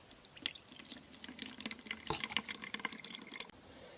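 Salt water solution from the Tamar River filters through a paper towel, giving faint, close trickling and irregular small drips with no talk.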